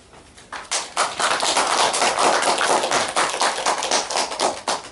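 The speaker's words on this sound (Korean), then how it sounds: "인사해서 박수를 받고 시작하네요." An audience at a Korean academic conference lecture claps as the speaker is introduced, a dense burst of applause swelling quickly, holding steady for several seconds, then thinning out.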